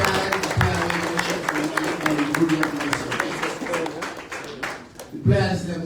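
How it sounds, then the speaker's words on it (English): Scattered hand clapping from people gathered at the State House in Freetown for the Leone Stars farewell to President Maada Bio, crisp individual claps mixed with a crowd murmur and voices talking over it. "A round of applause for the organization"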